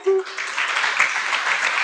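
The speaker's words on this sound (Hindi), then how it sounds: "बहुत अच्छा, इनके लिए और थोड़ा ज़्यादा तालियां।" A crowd at a stress-relief camp gathering breaks into sustained applause, a dense, even patter of many hands clapping with a voice faintly over it.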